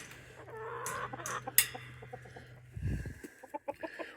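Chickens cluck softly nearby in short, choppy bursts over a low steady hum.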